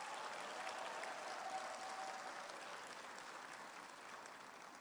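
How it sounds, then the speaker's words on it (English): Graduates at a 2017 university graduation ceremony applaud their parents and relatives, a sustained wash of clapping from a large crowd heard at a distance, even and continuous throughout. "May we ask the graduates to applaud the parents, the relatives, and everybody for giving them support."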